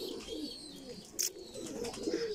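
Soft pigeon cooing repeats a few times at close range, with a brief sharper chirp partway through and low room noise underneath.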